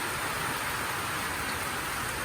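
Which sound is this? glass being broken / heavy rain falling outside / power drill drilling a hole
heavy rain falling outside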